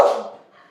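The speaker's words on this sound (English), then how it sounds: "Gosh darn dog." A single dog bark, loud and close, cutting off sharply and fading away within a second.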